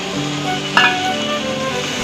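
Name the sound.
cashew and almond paste sizzling in a pan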